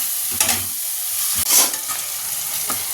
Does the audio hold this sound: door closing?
no